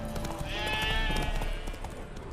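In The Witcher 3 video game, a horse spooked by ghosts whinnies and snorts over dense game ambience and a steady hum, loud and close for a couple of seconds.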